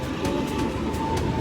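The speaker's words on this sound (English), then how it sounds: "Here's the train." Steady rumble and rattle of an amusement park ride train rolling past, with faint rhythmic clacks over a continuous low roar.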